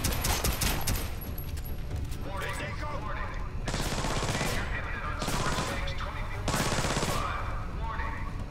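Bursts of automatic gunfire from the Splinter Cell Blacklist video game rattle in several loud volleys separated by short pauses, with a player and game characters talking in between.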